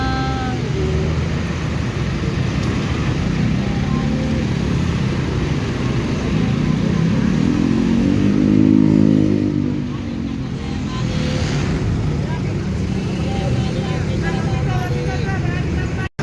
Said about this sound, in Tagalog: Punuhan ng sasakyan oh.